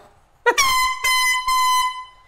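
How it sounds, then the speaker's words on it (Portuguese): An air horn blares in three loud blasts, the first a short stuttering start followed by two sustained honks, very close. "com esta porcaria desta buzina"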